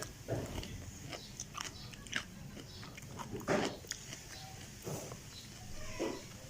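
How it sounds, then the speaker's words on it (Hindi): Close, quiet crunchy bites and chewing of a slice of home-fermented pickled vegetable, several crisp snaps spaced irregularly over soft background noise. "तो ये इस तरह का क्रंच जो है ना वो आपको आवाज़ आनी चाहिए"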